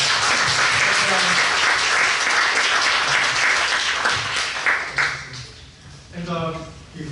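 Audience applause at an academic conference keynote, a steady broad wash of clapping filling the hall for several seconds before thinning out, with voices emerging near the end.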